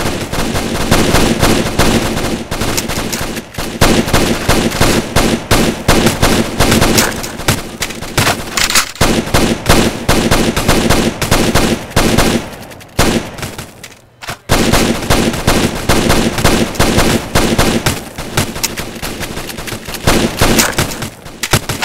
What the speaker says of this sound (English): Shoot the shooting targets.